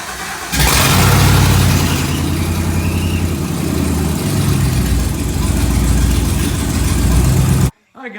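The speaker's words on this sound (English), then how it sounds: "Engine seems to be running, it's idling halfway decent, has some surge to it" A GM Gen V L83 5.3-liter V8 swapped into a Pontiac Solstice cranks and fires, then settles into a loud, steady close-up idle with a slight surge for several seconds before abruptly cutting off.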